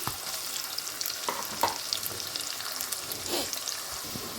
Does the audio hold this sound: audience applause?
no